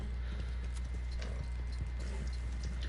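Horse hooves gallop in a video game ride, a fast, steady clip-clop rhythm repeating throughout over a low continuous rumble.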